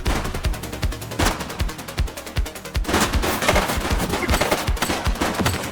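Rapid gunfire in the video game The Precinct during a gang arrest, loud and close, with dense bursts of shots in quick, regular succession and a few heavier booms throughout.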